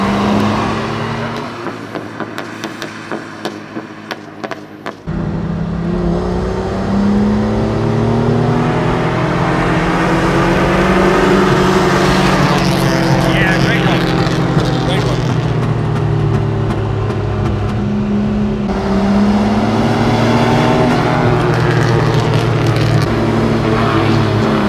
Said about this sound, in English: That's not regular for a ponton, because it has a straight pipe with no mufflers.